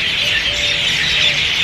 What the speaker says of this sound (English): Listen how noisy the birds are right now.